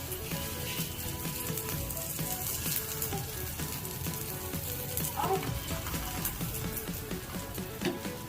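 A stuffed aloo paratha on a hot tawa with oil gives a soft, steady sizzle, fairly faint and continuous throughout, with no talking over it.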